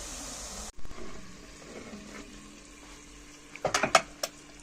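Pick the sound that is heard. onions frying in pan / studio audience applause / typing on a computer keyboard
onions frying in pan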